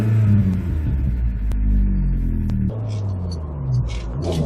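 A 1999 Rover 200 BRM engine rumbles and rises in pitch as it accelerates, then drops as the gear changes and climbs again, close and loud.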